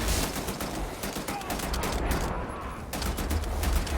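Rapid bursts of automatic gunfire in the video game Wolfenstein: The New Order, a dense rattling fusillade with a brief gap, moderately quiet.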